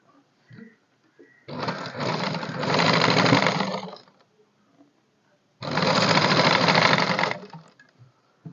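A sewing machine stitches the edge of a shirt in two loud, steady whirring bursts, each about two to three seconds long, separated by a pause with faint handling noises.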